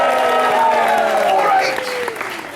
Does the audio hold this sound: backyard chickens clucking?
no